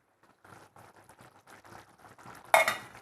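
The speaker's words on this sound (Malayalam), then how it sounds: "പാലൊഴിച്ചിട്ട് ഒന്ന് ഇളക്കി കൊടുക്കണം." Chicken mappas with coconut milk being stirred in a pot: soft repeated scraping and clinking of a spoon against the metal, ending in one sharper, louder clank near the end.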